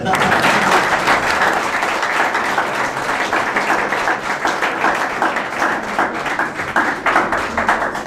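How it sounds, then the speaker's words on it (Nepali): Steady, dense audience applause from a crowd at a celebration for a TV program's 100th episode, continuous and loud for the full stretch with no pauses. "मलाई चाहिँ जहिले पनि ताली बजाउनु मन लागिरहेको छ कि तपाईँलाई लागेको छ भने बजाइदिनु नि"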